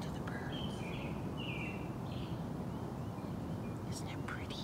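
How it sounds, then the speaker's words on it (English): Birds singing in a backyard garden among flowers and hostas, brief chirps and short whistled phrases scattered over steady background noise, fairly faint and distant. "Listen to the birds."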